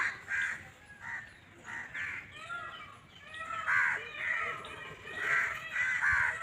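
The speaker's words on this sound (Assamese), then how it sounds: "আৰু চৰাই আছে ফ্ৰেণ্ডছ ইয়াত" Crows cawing at Indroda Nature Park in Gandhinagar, a series of harsh, repeated calls at moderate distance, coming in bursts with short gaps among outdoor park ambience.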